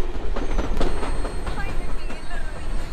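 The Copper Canyon passenger train in Mexico rumbles along the rails with steady rolling noise and faint metallic squeals, close by.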